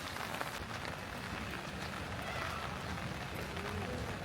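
Steady rain patters on surfaces in Switzerland, an even, continuous hiss of drops that stays at the same level without pause.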